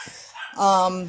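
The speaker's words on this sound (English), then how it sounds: "I apologize for the barking dogs in the background. I have Shelties and they bark" Shetland sheepdogs give a brief, sharp bark in the background, overlapping a voice that is just starting to speak.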